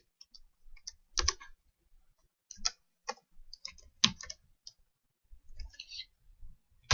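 Computer keyboard keys clicking in scattered bursts, close and crisp with irregular pauses between clusters of taps in an otherwise quiet room.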